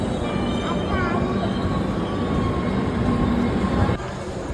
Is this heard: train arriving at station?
yes